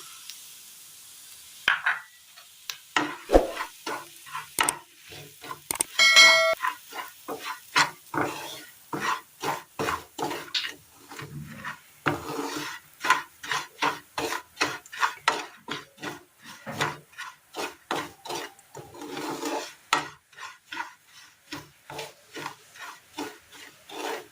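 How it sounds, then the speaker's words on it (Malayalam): Semolina stirred in a pan with ghee and mustard seeds for a Kerala breakfast dish makes steady rhythmic scraping strokes of a spoon against the pan, close and fairly soft, repeating for many seconds under a faint sizzle. "ഇതിലേക്ക് റവ ഇട്ട് കൊടുക്കാം"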